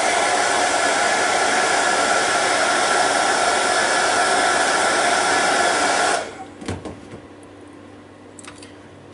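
A hair dryer blows loud and steady, drying oil paint on a Star Wars model kit, then cuts off abruptly, followed by a few light clunks of handling in a quiet room.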